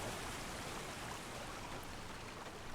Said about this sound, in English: And this little stream here has some current behind it now.